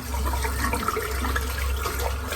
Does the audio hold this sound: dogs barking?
no